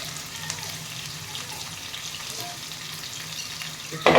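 Chicken frying in a pan gives off a steady, close sizzle that runs unbroken, then swells into a louder burst right at the end.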